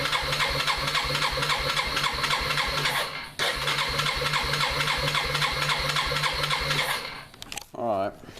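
A 2001 Bear Tracker ATV engine cranking over in a cold start with the choke on full, a steady mechanical churning that cuts out twice, the second time ending in a rattling stop.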